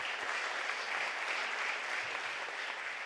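Audience at a psychic medium evening event applauding, a dense, steady burst of clapping filling the room at even volume from start to finish.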